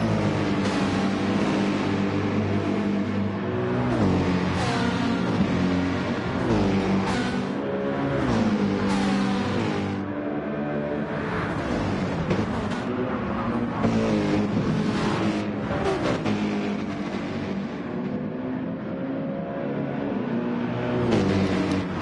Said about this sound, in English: Let's take a moment to just listen to the engines.